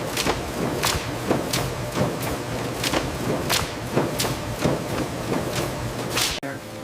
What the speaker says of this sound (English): The loud, rhythmic thud of the presses follows.